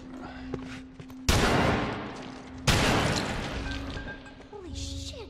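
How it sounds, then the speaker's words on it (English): Two loud shotgun blasts from a survival action game, evenly spaced about a second and a half apart, each a sharp crack with a short decaying tail, over quiet game ambience with no talking. "Two shotgun blasts to the face."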